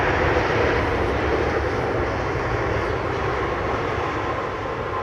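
A 24-year-old Airbus A319 departing on runway 27R, its engines giving a loud, steady broadband roar that holds for the whole span and eases very slightly toward the end.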